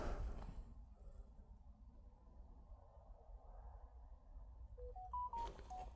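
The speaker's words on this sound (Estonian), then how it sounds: "Ja tuli märguanne" A short rising melodic chime of several electronic tones plays as an alert from an EZVIZ C3N security camera, with quiet background noise before it.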